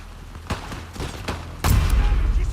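Gunfire in The Last of Us Part II: a few sharp shots ring out, then a heavier, louder burst of fire rumbles near and close.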